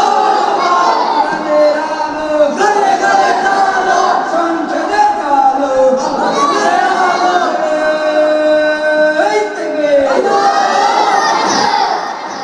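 A large gathering at a Bangladeshi Islamic religious rally roars back a chant in unison, many adult and young voices shouting loudly and continuously in rising and falling waves for several seconds.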